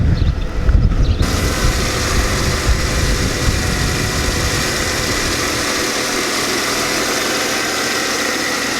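An idling car engine at a farm, the air conditioner running, with a low, steady mechanical rumble and a faint knocking texture. A brief louder burst at the start settles into an even, continuous drone close by.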